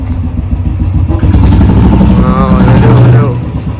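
A motorcycle engine catches and runs steadily in a parking area, a low rumbling idle building up over a few seconds while someone talks nearby.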